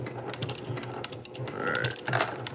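Brother PQ1500SL sewing machine running a short backstitch burst, with quick rhythmic mechanical stitching mixed with faint room noise and a brief higher whir near the end.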